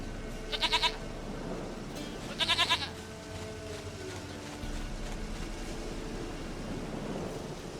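Goat bleating in The Witcher 3: Wild Hunt, two short quavering bleats about two seconds apart over a low ambient game background, with no talk.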